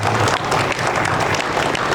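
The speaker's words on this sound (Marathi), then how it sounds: "या लेकीसाठी एकदा जोरदार टाळ्या वाजवा." Audience applause at a village Khel Paithanicha women's game-show event in Pur, Khed, Pune, dense and steady throughout, close and loud with a crowd murmur underneath.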